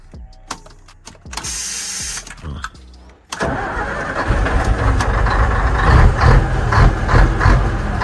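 A truck engine cranks and fires after some mechanical clatter and knocks, then settles into a loud, rough diesel-like running rumble that builds slightly and holds steady to the end.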